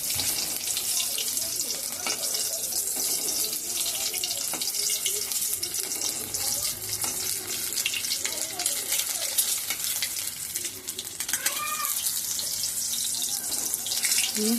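Two eggs fry in a pan over a gas flame with a loud, unbroken sizzle at close range, marked by occasional pops and crackles.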